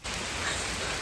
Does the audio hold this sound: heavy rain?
yes